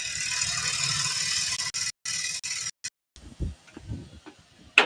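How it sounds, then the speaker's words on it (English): A lathe turning a workpiece, likely wood, whirs steadily, then cuts out in abrupt gaps and falls quiet, followed by scattered close clunks and rattles of the machine. "Stop lathe there."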